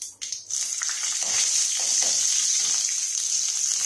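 Mustard seeds, urad dal, dried red chillies and curry leaves frying in hot oil for a tempering, a steady close sizzle that swells after a brief crackling start and holds loud throughout, with no talk.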